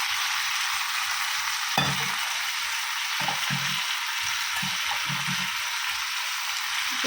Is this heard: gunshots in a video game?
no